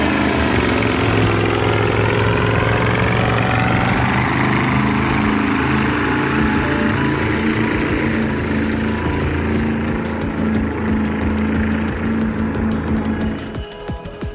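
Heavy recovery truck's Caterpillar diesel engine runs loud and steady with a throaty rumble, holding constant for most of the stretch before dropping off near the end, with no talk over it.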